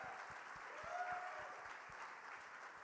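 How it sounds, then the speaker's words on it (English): Applause from a convention panel audience at New York Comic Con for a Muppets panelist's outfit, a fairly quiet, even wash of clapping heard from a distance, steady through the short moment. "can we give Bill a round of applause for this outfit?"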